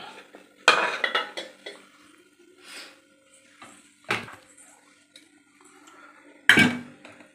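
A metal idli plate is set down in a kitchen while making idiyappam, giving sharp metallic clanks. There are three louder clatters spread apart, with softer handling and rustling in between as cloth is spread over the plate.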